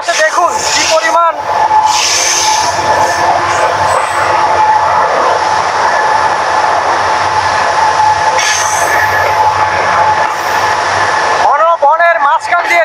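Parabat Express rolling along a railway line through Lawachara National Park forest in Sylhet, a steady loud rumble and clatter of carriages throughout, with brief wheel squeals near the start and end.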